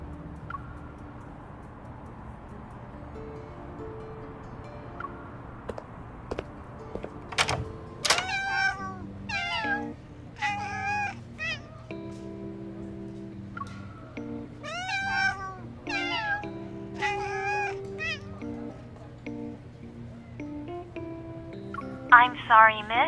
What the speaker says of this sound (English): the constant meowing creeped me out